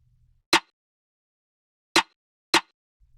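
A layered snare drum sample strikes three times alone, sharp cracking hits separated by silence, the second and third closer together.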